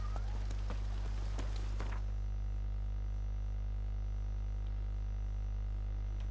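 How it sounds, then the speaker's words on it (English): Horse hooves clop briefly in The Witcher III video game for about two seconds, then stop and leave only a steady low electrical hum. "Whoa there, Roach."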